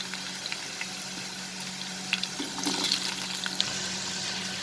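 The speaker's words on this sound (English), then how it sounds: "I will take the cubed potatoes and I will add them slowly into the oil" Cubed potatoes slide into hot oil for a bitter gourd and potato dish, producing a continuous bright hiss that swells briefly partway through, then settles into steady frying.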